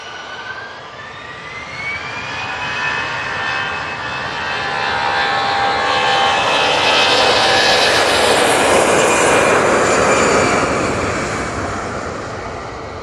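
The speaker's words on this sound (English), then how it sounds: "On final now, we have the Air Transat A321neo LR, and that's coming in from Toronto" An Air Transat A321neo LR jet on final approach into Manchester Airport, a loud roaring engine drone with whining tones that swells as it passes close overhead, with no talk.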